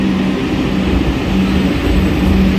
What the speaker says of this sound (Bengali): ফাইনালি মেট্রো দেখুন চলে এলো